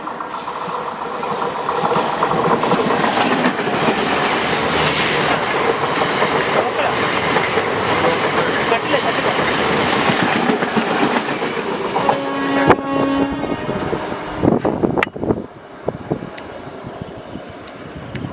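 A train rumbles past on the track in Kottayam, loud and continuous with rhythmic rattling of wagons, then fades, leaving a few clanks and a faint horn-like tone.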